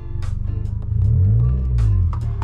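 Car engine fitted with an exhaust diffuser revs briefly and moderately, a deep rumbling rise and fall over a steady idle, close and fairly loud with no talking.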